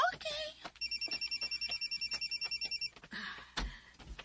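A cellphone rings with a steady electronic warble of rapid repeated pulses, loud and close, lasting about two seconds; brief talk and a clatter come before and after it.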